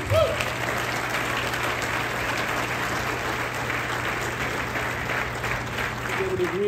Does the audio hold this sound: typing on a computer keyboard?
no